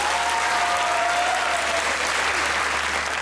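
A studio audience at a comedy talk show bursts into loud, dense applause that holds steady from start to finish, with a faint voice briefly audible underneath.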